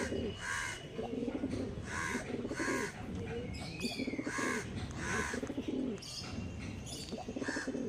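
Andhra pigeons in a loft coo and call in a steady series of repeated bursts, fairly close and continuous against a busy background.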